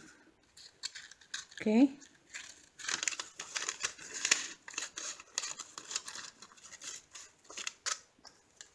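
Scissors cut a paper cupcake liner close to the mic, a few crisp snips and crinkles after a short spoken word at the start.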